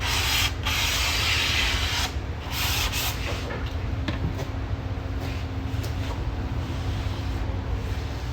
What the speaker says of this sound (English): So we're just going to do the same thing, 220 sandpaper, just make sure that guy's nice and clean.